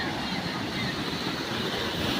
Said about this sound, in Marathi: हे बघा धबधबा पण इथं बघा